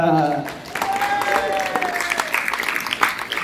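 An expo crowd gives applause for a guest speaker, with a steady wash of clapping and cheering that sits under talk and a loudspeaker voice.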